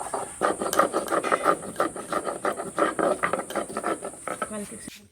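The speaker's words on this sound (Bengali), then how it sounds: "প্রথমে আমি জিরেটা বেটে নিচ্ছি" Cumin seeds are ground by hand on a stone, giving a close, rhythmic scraping and rasping with repeated strokes in quick succession and a steady hiss behind, ending abruptly.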